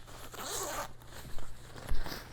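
A zipper drawn closed on the carrying bag of a spiked drone landing pad with reflectors, a steady close rasping pull with a couple of sharper tugs near the end.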